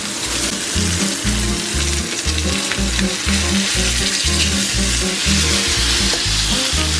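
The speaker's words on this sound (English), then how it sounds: "now I'm going to add a little bit of the beef stock" Beef stock poured over a pot roast, giving a loud, steady sizzle and frying crackle throughout, with a low rhythmic thumping underneath.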